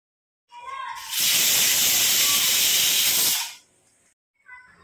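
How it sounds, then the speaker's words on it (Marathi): A loud, sustained hissing blast of steam escaping a pressure cooker cooking chickpeas lasts a couple of seconds, then cuts off, leaving quiet background sounds. "त्या चण्यांना आता कुकरमध्ये 3 शिट्ट्या करून घेणार आहे"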